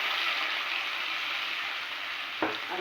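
Spices added to hot oil give a loud, even sizzle that holds steady, with one sharp knock of a utensil near the end.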